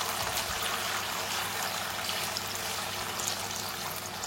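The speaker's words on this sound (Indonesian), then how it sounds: "Kayak geus panas guys minyaknya, tinggal digoreng dulu ya" Tofu fried in hot oil in a pan for a stir-fried tofu dish gives a steady, even sizzle that holds at one level throughout, with no voices.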